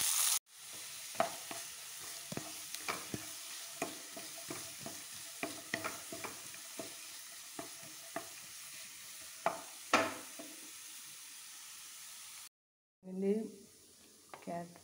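Onions sautéing in oil with mustard seeds in a frying pan, a steady soft sizzle broken by regular spatula scrapes and stirring taps, with a short pause near the end.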